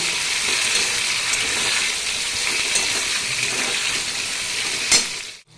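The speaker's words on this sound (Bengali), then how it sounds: "এবার সবজিটা ভালো করে ভেজে নেব।" Vegetables seasoned with salt and turmeric fry in a pan with a steady, loud broadband sizzle, with a few brief scrapes of stirring and no talk, ending abruptly.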